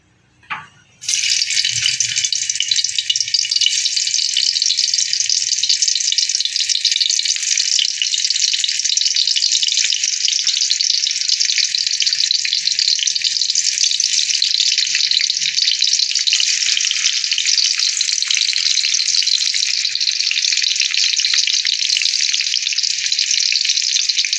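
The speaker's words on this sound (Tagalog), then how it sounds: "nakasalang na yung kawali na may mantika" Cooking oil in a pan gives a loud, close sizzle that starts abruptly and holds steady and unbroken for over twenty seconds, with no voices.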